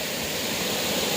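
Water flowing steadily at a shaded spring beneath large trees, a continuous loud broadband rush like a small waterfall, constant and close with no talking.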